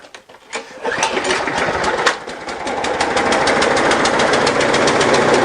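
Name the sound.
lawn mower engine starting after priming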